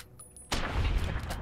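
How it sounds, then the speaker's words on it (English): A sudden loud gunshot blast in Fallout: New Vegas breaks a quiet stretch, followed by a lingering booming tail, heard close and alone. "I shot him 10 times"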